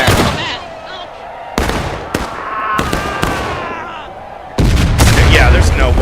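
Cannons boom at near point-blank range in a Civil War video game battle, several loud blasts with ringing tails spaced a second or so apart, ending in a heavy, rumbling volley.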